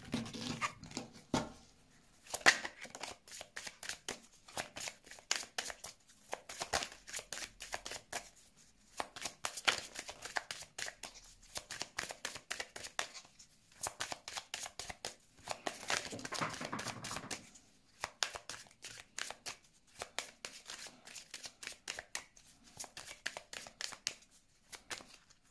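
Cards shuffled for a tarot-style reading, rapid riffling bursts of crisp flutter, repeated many times with brief pauses between, close and fairly quiet.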